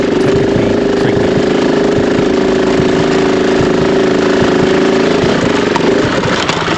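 A dirt bike engine labors up a steep hill in the Victorian High Country, throttle and clutch worked hard as the motor drones steadily with loud, gritty revving that barely lets up.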